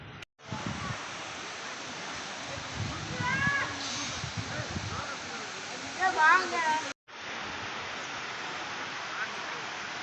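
Water pouring at Courtallam waterfall in Tenkasi, a constant loud rushing hiss, briefly cut by two short gaps, with a few faint voices and whistle-like chirps in the middle.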